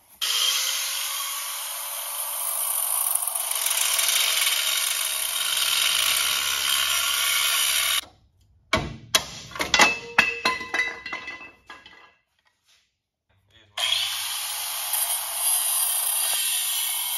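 A cutting wheel slicing through the welded tabs joining a Grand Wagoneer frame, a steady loud high-pitched grinding whine that stops partway for a stretch of metallic clinks and clatter, then resumes cutting.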